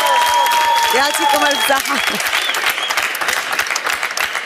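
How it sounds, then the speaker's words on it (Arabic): A live audience at a televised singing show bursts into loud, sustained applause that gradually thins out, with a voice speaking over the clapping. "توا سيبون بالتصفيق"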